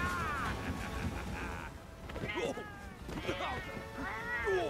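A cat meows in the Monster Hunter World: Iceborne video game, several rising and falling meows over a busy game soundtrack, with someone's voice talking in between.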